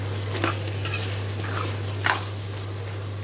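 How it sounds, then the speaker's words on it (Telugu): Ginger-garlic paste frying for a tomato chicken curry, with a low steady sizzle and a constant hum beneath a few sharp stirring scrapes in the pan. "అల్లం వెల్లుల్లి వేగిపోయింది చక్కగా"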